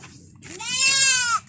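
A goat bleats on a farm, one loud drawn-out wavering cry rising after a brief soft lead-in and holding for nearly a second before cutting off, with no talk over it.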